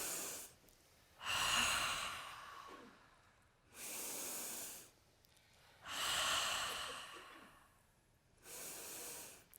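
Slow, deliberate breathing exercise: four long, loud breaths alternate between inhales and forceful exhales, each a few seconds of airy hiss separated by short quiet pauses, close up with no talking.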